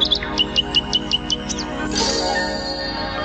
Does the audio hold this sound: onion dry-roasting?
no